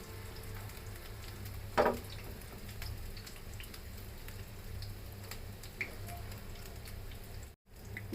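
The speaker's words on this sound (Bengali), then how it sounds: "এটা কিন্তু খুব ভালো করে ফ্রাই করতে হবে বন্ধুরা" Small soybean pakoras deep fry in hot oil with a soft, steady sizzle and faint crackling, quiet and close, with one brief louder spatter.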